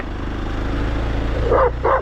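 A dog gives two short barks close by on a walk through the Çandır valley, coming near the end over a steady outdoor background of low rumble.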